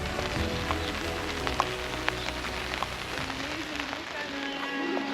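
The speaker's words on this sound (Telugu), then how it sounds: "ఇప్పుడు వర్షం రావడం ఆశ్చర్యంగా ఉందన్నమాట." Winter rain falling in Cappadocia, Turkey, a soft, steady patter of drops on surfaces with faint scattered taps, quiet background tones running underneath.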